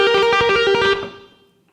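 A Les Paul electric guitar with distortion plays a quick chromatic slide that mimics a whammy-bar dive in a solo: a rapid run of pulsing, bright notes over about a second, then a fading ring, loud and alone.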